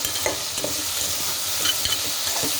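Brinjal and okra frying in a pan for a dried prawn pulusu are stirred, with a close, continuous sizzle and soft scraping strokes of the spoon.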